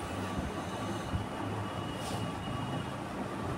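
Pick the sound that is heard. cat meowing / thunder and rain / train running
train running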